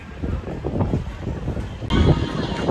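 Strong wind buffeting the microphone outdoors at a street gathering with food trucks, a constant roaring gust with a sudden louder surge near the end, faint talk underneath.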